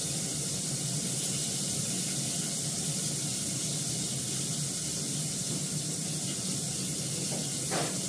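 Food frying in a pan gives a steady, continuous hiss and sizzle that holds at an even level throughout, with no voices over it.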